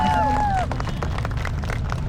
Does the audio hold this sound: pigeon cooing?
no